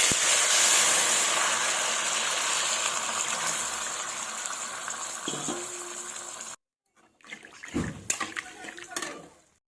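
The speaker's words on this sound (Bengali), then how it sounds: "এবার আমি দিয়ে দেবো জল" Water poured into a pan of fish curry with dry chilli, ginger and cumin paste, a steady gushing sloshing flow for several seconds that cuts off, followed by a few clattering stirs.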